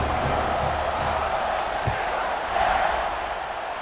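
Stadium crowd noise in a Baylor college football video game dynasty, a dense steady roar as the kickoff is set, swelling briefly near the end, with a commentator talking over it.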